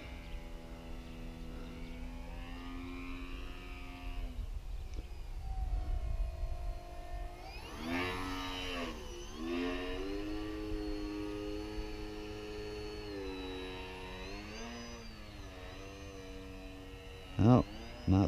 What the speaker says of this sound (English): This airplane is what they call a 3D airplane